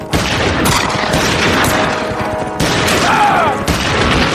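Rifle gunfire during a Texas Rangers battle scene in an audio drama: repeated loud shots and booming volleys crack over a dense battle din, with a brief cry partway through.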